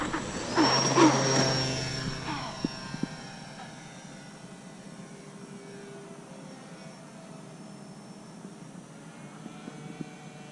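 An E-flite EC-1500 RC airplane takes off with flaps set: a rising electric motor whine is loud for the first couple of seconds, then fades as the plane pulls away, leaving faint distant droning.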